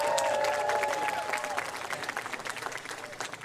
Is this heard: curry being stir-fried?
no